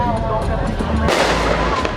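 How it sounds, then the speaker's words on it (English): Loud July 4th fireworks go off nearby in a rapid series of booming, crackling blasts, with a big burst about halfway through and a continuous rumble throughout. "More fireworks."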